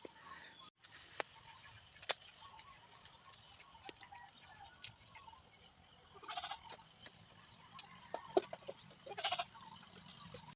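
A goat bleats a few times in short, faint cries amid quiet outdoor background noise with scattered clicks and rustles.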